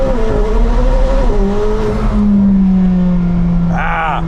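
A high-horsepower car launches on launch control and spins its tires through first and second gear, its engine note climbing loud and close through a full rev, then a brief rising whine as it shifts.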